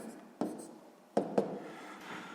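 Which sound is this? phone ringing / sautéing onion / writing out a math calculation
writing out a math calculation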